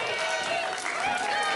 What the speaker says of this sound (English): Cody Blayde now getting this crowd behind him.